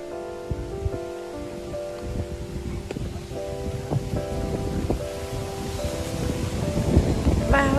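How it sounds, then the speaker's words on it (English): Strong wind gusting outdoors, a broad rushing roar that swells toward the end, with some faint tonal sounds under it and no talk. "Wow, it's very windy."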